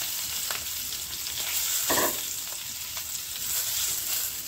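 Green chilies and beet fry in ghee with cumin, a close, steady sizzle broken by a few stirring scrapes and one louder splattering burst near the middle, with no talking.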